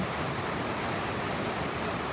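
Steady rain falls during a stormy morning on a rural fishing outing, a dense, even hiss that fills the whole stretch without pause and with no voices over it.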